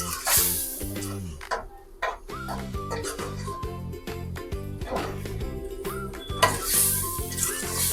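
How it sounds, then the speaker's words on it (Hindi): Potatoes fry and are stirred in a pan, a sizzling hiss broken by repeated rhythmic scrapes and clanks of a utensil against metal, fairly close, with soft background sounds throughout. "ये देखिए हमने अब आलू को ऐड करके जो है अच्छे से इसे भून लिया है"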